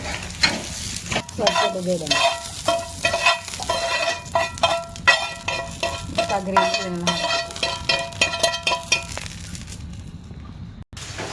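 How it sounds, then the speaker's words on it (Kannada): Onion and garlic frying in a pan for a Ganesh Chaturthi festival dish, steady sizzling with repeated stirring scrapes and a few light clinks of the utensil, close and loud, with no talk. "ಈರುಳ್ಳಿ ಮತ್ತು ಬೆಳ್ಳುಳ್ಳಿ ಹಾಕಿ ಫ್ರೈ ಮಾಡಬೇಕು"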